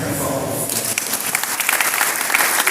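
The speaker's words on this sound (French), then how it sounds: "Acclamez très fort." Applause from a large hall audience at a commemorative gathering, a dense steady clatter of many hands that runs the full length and builds slightly toward the end.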